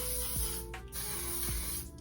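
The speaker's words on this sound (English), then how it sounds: "Mattifying waterproof setting spray." A mattifying setting spray hisses in a continuous fine mist, with a short pause partway through before the misting resumes, close by and fairly soft.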